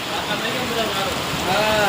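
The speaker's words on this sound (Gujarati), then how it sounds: "બહાટે બોલાવે એવો વરસાદ પડે છે" Heavy rain pours onto a tin roof in a village downpour, a dense, constant hiss and patter that stays loud and even from start to finish.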